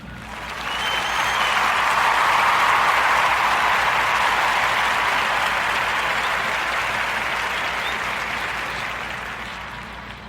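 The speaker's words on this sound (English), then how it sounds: "So let's give our brother Rashawn Miller a Warm Narrative podcast round of applause for being the spotlight recipient this week on the Narrative Podcast" Loud, sustained round of applause from a crowd on a podcast's weekend edition, swelling in after a second and holding steady before slowly tapering off near the end, with no talking over it.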